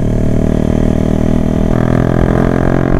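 A motorcycle engine idles steadily up close, a loud continuous mechanical rumble with a low throbbing pulse and no voices over it.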